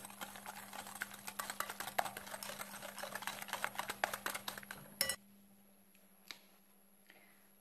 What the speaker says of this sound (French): Je vais mélanger avec le fouet.